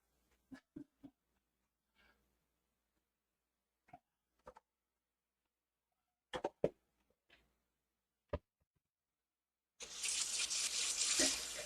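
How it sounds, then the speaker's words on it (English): After scattered kitchen clatter and bumps, hot water from a kitchen tap suddenly gushes in a loud, steady rush for the last couple of seconds. "Get us some hot water going."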